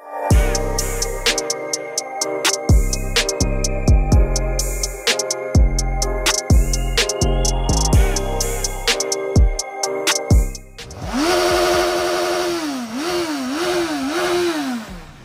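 A Porsche Panamera engine cranking and firing up, then revving in a series of loud, close blips with rising and falling pitch, followed by a sustained high rev near the end.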